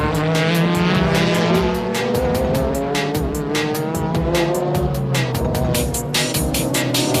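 The Motul Z GT race car spins out on a corner and contacts a Denso Supra during a JGTC race, with loud engine roar, rhythmic pulsing and a long screech of tyre squeal, all close and sustained with no talking.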